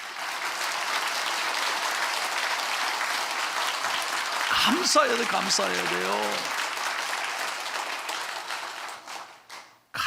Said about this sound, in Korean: 우리 하나님 앞에 뜨겁게 우리 감사의 박수 한번 하겠습니다